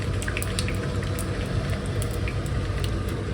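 Oil poured into a hot kadai sizzles with a steady broadband hiss and faint crackling pops, loud and close, with no voices over it.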